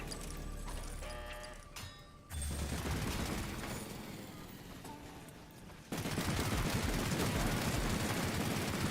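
Rapid gunfire from the western shooter game Far Far West, dense bursts of shots crackling in fast strings, growing louder and busier toward the end, with faint background sounds under it.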